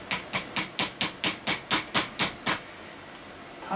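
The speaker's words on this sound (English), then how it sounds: "Just need a bit of a gentle tappy tap." Gentle hammer taps on a part during a Saracen Raw mountain bike build, about ten evenly spaced, fairly close strikes in a steady quick rhythm, then stopping, with no talking.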